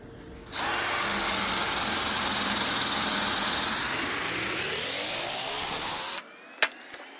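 A VEVOR 250A MIG welder lays a flux-cored wire weld with a loud, continuous crackling hiss that lasts about six seconds. It starts abruptly, cuts off abruptly, and is followed by a couple of brief clicks.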